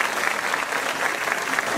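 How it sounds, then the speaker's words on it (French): Sustained applause from the audience at a mayor's New Year greetings ceremony in Ouistreham, honouring a new regional councillor; even, continuous clapping heard at a moderate distance. "un tout nouveau conseiller régional, maire de Courseulles-sur-Mer, Frédéric Pouille, que l'on peut applaudir et remercier d'être avec nous."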